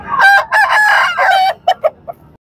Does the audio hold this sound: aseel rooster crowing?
yes